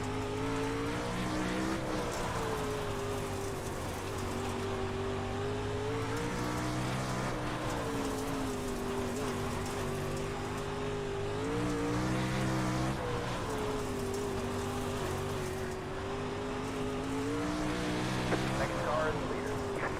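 Race cars at the NARC Outlaws and Big-Block Summer Nationals, a steady roar of engines circling the track at night, pitch rising and falling as cars pass, continuous and fairly loud with no talk over it.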